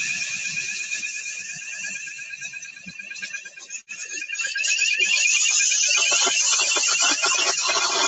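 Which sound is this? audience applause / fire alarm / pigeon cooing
fire alarm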